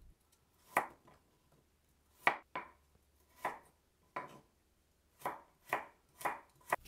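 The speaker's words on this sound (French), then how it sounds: "Je coupe une carotte en petits cubes" Kitchen knife chopping a carrot into small cubes on a board, about ten crisp, close chops in an irregular rhythm with short pauses, no talking.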